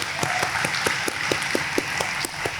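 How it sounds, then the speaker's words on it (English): Applause from an audience at an induction ceremony, a steady wash of clapping with a few distinct rhythmic claps standing out above it, moderately loud. "I would like it if we could give him a round of applause, and anyone like him"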